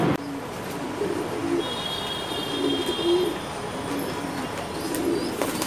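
Pigeons at a large pigeon market in Dhaka give steady, overlapping low coos against a constant busy background hum, moderately near and without speech.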